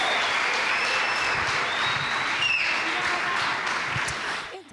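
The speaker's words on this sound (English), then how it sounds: "let's give them a round of applause one more time" A crowd at a youth seminar of a faith convention claps steadily in sustained, dense applause that starts to fade in the last moment.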